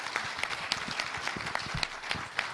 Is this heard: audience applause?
yes